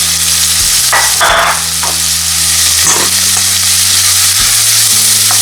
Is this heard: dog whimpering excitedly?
no